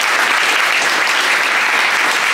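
A crowd of boys and girls gives loud, steady, close applause for a brother, a continuous wash of clapping at even intensity throughout with no break.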